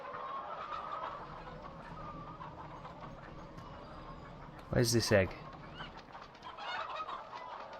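Chickens in a barn in Farming Simulator 15 cluck softly and steadily in the background, a brief louder squawk standing out midway, while someone talks over them.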